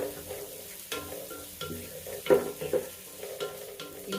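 Onion with crushed ginger and garlic fries in a pan, a steady close sizzle broken by the scrape and clatter of stirring, with no talk.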